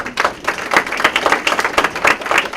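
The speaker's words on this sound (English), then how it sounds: "You should probably wait until after the lecture and decide whether to clap or not." Lecture audience gives a short burst of applause, a dense, lively patter of many hands clapping together at close range, with no voices.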